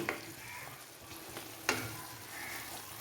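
Chicken perattu frying in oil until dry, with a steady crackling sizzle broken by a few sharp scraping stirs of a spoon against the pan, fairly close.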